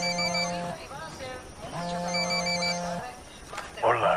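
A telephone rings in a Ghost Recon Wildlands cutscene with two long, steady electronic trills separated by a short pause, loud and close, followed by a brief rustle.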